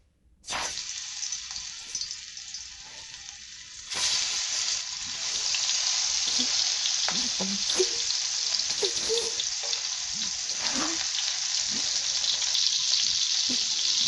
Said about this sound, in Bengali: এটা দিয়ে দিচ্ছি একটা চিংড়ি মাছটা ভেজে নেব